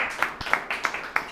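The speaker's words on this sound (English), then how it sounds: "Clap for each point." Scattered handclaps from a small classroom group during an English debate class, about four sharp claps spaced across a second and a half, moderately close with faint background murmur.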